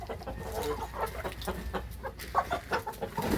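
Backyard chickens cluck and murmur close by, a busy overlapping chorus of short, soft calls with some louder squawks, continuous over a low rustling background.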